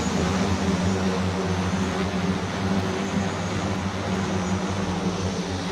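The Varuna, a made-in-India passenger-carrying drone, spins up for takeoff. Its rotors give a constant, loud, buzzing roar with steady tonal hums and no voices.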